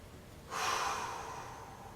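A single slow inhale during a stretching exercise, heard as a close, soft, airy draw of breath that begins abruptly and tapers off gradually.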